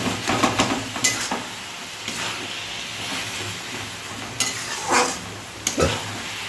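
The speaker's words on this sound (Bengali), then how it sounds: "এখন আমি এই মুগ ডাল যে ভেজে রেখেছি সেটা দিয়ে দিলাম ভালো করে নেড়ে দেবো" Fried moong dal stirred into ash gourd in a pan with a little water: a soft continuous sizzle with bursts of spoon scraping and clattering against the pan, clustered at the start and again near the end.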